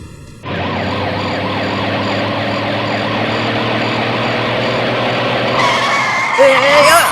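Car braking hard with a long, loud tyre skid as a person falls in front of it, heard close over a continuous wailing siren-like tone, with a sharper screech near the end.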